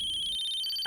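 A phone ringtone chimes faintly in a steady, high electronic tone, heard alone without talk for under a second.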